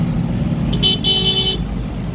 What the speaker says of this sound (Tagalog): Wala nang patient ang mga 4 wheels kung bumisina na